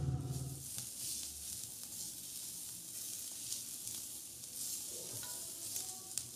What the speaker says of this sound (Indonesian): tumis setengah bawang bombay yang sudah diiris-iris kecil